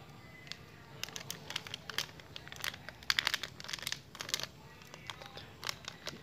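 A packet of ground coffee is crinkled and handled up close, producing irregular crackling plastic rustles that rise to a busier burst midway, over faint background hiss.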